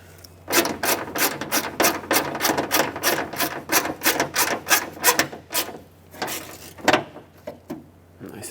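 A bolt goes back onto the window track inside the front left door of a Chevy Express 3500 van, with about a dozen rapid, close ratcheting strokes in a steady rhythm, a short pause, then a few more clicks.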